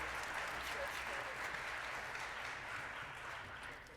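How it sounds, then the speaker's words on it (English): An audience at a spring jazz band concert applauds soloists with a broad, sustained wash of clapping that holds loud and slowly fades over a few seconds. "About one more round of applause for Eric and for Michael on those solos."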